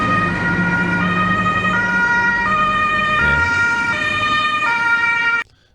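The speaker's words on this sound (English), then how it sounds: "Sounds like an ambulance." A two-tone European ambulance siren alternates steadily between high and low pitches, loud and close, then cuts off abruptly near the end.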